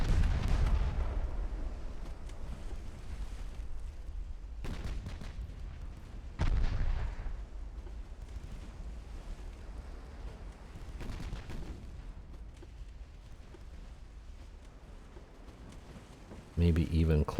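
Naval guns boom during a sea battle in Ultimate Admiral: Dreadnoughts, with a heavy opening blast, further loud reports near six and a half seconds, and a rumbling low roar throughout, ending in another close burst.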